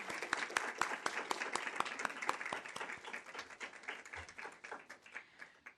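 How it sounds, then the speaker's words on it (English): Applause for coaches rises in a school board meeting, a moderate crowd with several sharp, distinct claps standing out up close, tapering off gradually over about six seconds. "Let's give them a hand of applause."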